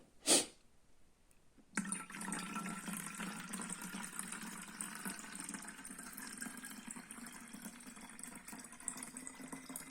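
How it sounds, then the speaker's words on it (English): Water poured from a measuring cup into a spray bottle while mixing a bleach sanitizer solution, a brief splash followed by a steady, continuous close pour that runs to the end. "Then you just pour into the spray bottle."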